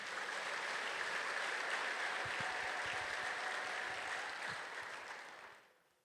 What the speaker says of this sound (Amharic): እስቲ በደንብ አጨብጭቡ።